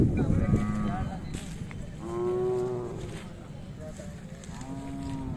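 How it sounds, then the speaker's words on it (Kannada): Cattle at a busy livestock fair moo repeatedly, with several drawn-out lowing calls spaced a second or two apart over a constant murmur of crowd noise. "ಇವೆಲ್ಲ ಹಸುಗಳೇ ಇದಾವೆ ಇಲ್ಲಿ?"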